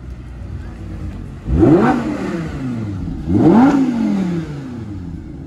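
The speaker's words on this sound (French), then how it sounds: "au son, soit il arrive avec une Huracan, soit avec une R8" A powerful sports car engine, a Lamborghini Huracan or Audi R8, revs hard twice as it arrives, each surge rising and falling, over a steady idling rumble nearby.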